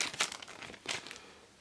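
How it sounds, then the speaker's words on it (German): A basketball trading card pack wrapper is torn open, giving two short, crisp bursts of crinkling and tearing foil that are quiet and close, with no talking. "Tüte wird angebrochen."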